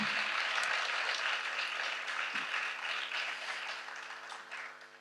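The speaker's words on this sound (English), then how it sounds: "should we give them a round of applause?" An audience applauds performers after an evening of South Asian music and dance, with soft, steady clapping heard at some distance that gradually thins out.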